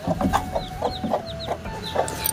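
A crowded flock of backyard chickens, with new chicks hatched, cluck steadily in short overlapping calls, several birds near and a few farther off, at moderate volume with no talking.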